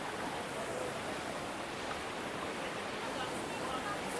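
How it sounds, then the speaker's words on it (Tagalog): River water rushing steadily during a river crossing on Mt. Kasahingan, a dense, broadband roar close by and constant throughout, with no clear pauses. "Time for river crossing!"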